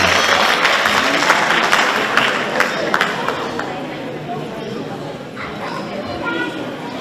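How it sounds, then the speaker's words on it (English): A large audience applauds after a Smriti Dance troupe performance at a RAAS 2021 dance event, a dense, steady wash of clapping with crowd noise that slowly thins toward the end. "Let's give them another big round of applause."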